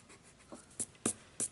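Pencil drawing quick inside lines of a mandala on paper, soft close scratchy strokes with a few sharper distinct marks near the end, quiet and without talk.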